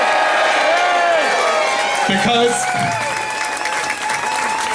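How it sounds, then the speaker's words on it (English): A rally crowd claps and cheers in a sustained burst of applause with scattered whoops, fairly close, while a speaker's voice briefly cuts through. "Can I have a big cheer for the team here today?"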